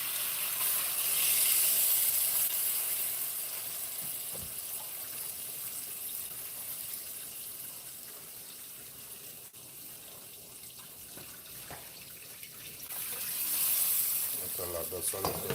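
Water runs and splashes steadily into a pot of meat, a continuous rushing sound that swells and eases over several seconds.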